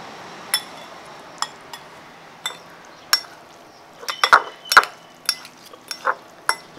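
Small metal forks clink and scrape against a bowl while instant noodles are mixed, a dozen or so sharp, irregular taps close by with a cluster of quicker clinks midway, no talking.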